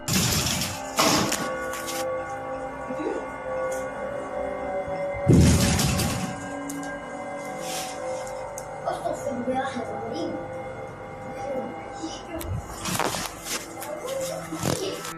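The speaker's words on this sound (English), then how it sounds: "Phantom knocking at odd hours day and night." Mysterious knocking of unknown origin heard in a village in Sabak Bernam, Malaysia: several sharp, loud thuds and bangs at irregular intervals over a steady background hum, with no voices.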